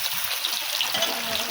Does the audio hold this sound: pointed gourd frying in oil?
yes